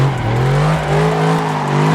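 Tires squeal loudly and continuously as a car spins donuts in a sim racing game, a sustained rising-then-steady screech over a low engine drone, close and unbroken.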